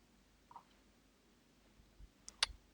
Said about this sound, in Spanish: hago clic en la primera celda